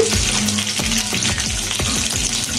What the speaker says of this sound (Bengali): চুলায় আমি একটু কড়াই বসিয়ে দিয়েছি। দিয়ে দেবো সয়াবিন তেল, দিয়ে দেবো তেজপাতা